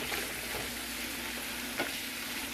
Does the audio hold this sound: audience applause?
no